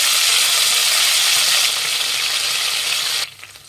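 Mint and coriander fry loudly in hot oil for tomato masala rice, a dense, close sizzle that eases slightly partway through and then drops away sharply near the end.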